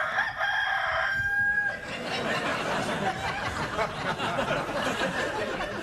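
A late-night TV studio audience loudly imitating chickens, a burst of crowing and clucking voices overlapping, then continuing as a noisy, rowdy din.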